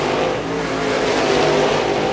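Late model race cars thunder down the back stretch of a short oval during a heat race, a loud, dense engine roar with no letup.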